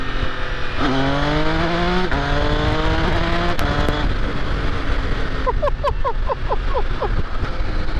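A 2024 MV Agusta Enduro Veloce motorcycle engine pulling hard under acceleration through rising gear pulls, loud and close against heavy wind rush, ending in a rapid burst of short crackles.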